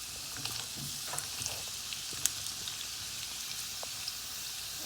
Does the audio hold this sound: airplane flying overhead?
no